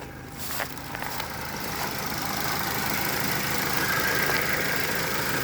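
A 1998 Ford Contour with a 2.5 liter Zetec engine idling with the check engine light on, a steady broadband mechanical hum and whir that rises slightly and then holds close and continuous, with no talking.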